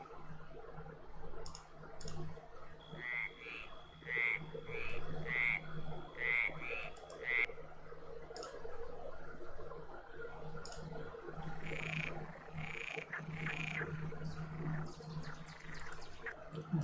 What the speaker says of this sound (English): Frog ASMR.